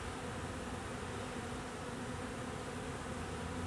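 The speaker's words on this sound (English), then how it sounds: "you can also hear that they're loud too, so it's just the collective sound of all the wings." A dense honeybee swarm buzzes steadily at the hive, the collective drone of countless wings holding loud and unbroken throughout with no voices.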